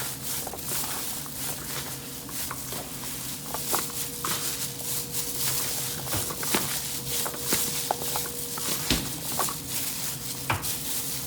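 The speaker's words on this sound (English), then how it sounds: "So you're just going to mix it all up very well." Fideo ingredients are stirred together in a bowl, giving soft scraping and light clinks of a utensil against the dish. The sounds are irregular and close, with no one talking.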